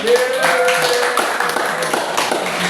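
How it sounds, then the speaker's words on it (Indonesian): Group applause from a gathered audience, a steady patter of many hands clapping together at close range, with a voice briefly calling out over the clapping. "Dikasih tepuk tangan yuk."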